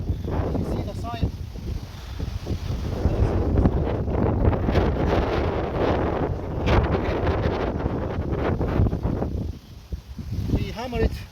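Strong wind gusts roar across a microphone in a back alley, a loud, rough, continuous rumble that swells and eases, with a voice talking briefly near the end.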